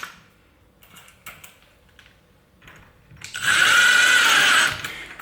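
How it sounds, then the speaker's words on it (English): A power driver runs a screw into the wall to fix a towel rail mounting bracket, giving a loud whirring burst of about a second after some quiet handling taps and rustles. "we can take our mounting bracket and a screw, and we're going to attach that one there to the wall"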